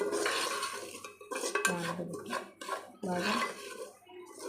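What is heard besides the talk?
semolina roasting and being stirred in a pan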